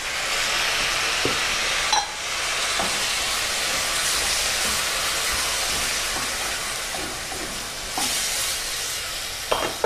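Tomatoes and apple cider vinegar hit caramelised onions and garlic in hot olive oil, giving a steady loud sizzle throughout with a few scraping stirs and clicks of a utensil in the pan.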